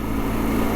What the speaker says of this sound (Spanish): Va muy tranquila en vueltas la moto